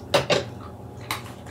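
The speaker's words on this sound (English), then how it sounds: "So we're gonna stir that in." Beef stew being stirred in a pot: two quick metallic scrapes of a utensil against the pot, a pause, then one more clink, close and crisp with no talking.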